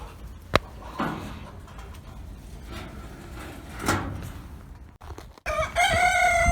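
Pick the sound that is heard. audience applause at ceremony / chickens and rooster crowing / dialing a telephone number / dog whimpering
chickens and rooster crowing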